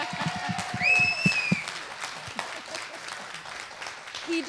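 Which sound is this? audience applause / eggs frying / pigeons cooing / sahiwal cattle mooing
audience applause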